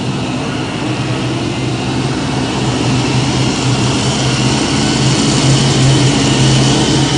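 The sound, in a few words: pulling tractor engine roaring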